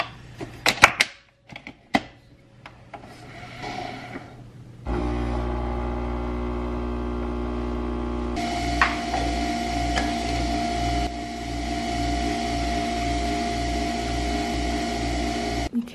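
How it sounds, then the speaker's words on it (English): An espresso machine brews an Infinimint holiday double espresso, starting with a few clicks and clunks, then a steady loud pumping hum and buzz that rises in intensity partway through and runs on continuously. "I'm going to make the Infinimint double espresso, these ones, the holiday ones."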